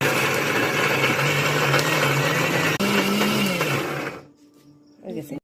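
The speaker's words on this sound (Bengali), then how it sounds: "এখন ওগুলো আমি ব্লেন্ড করবো" An electric blender grinds fried, cooled spices in a loud, steady whir with a shifting motor pitch for about four seconds, then cuts off into near quiet.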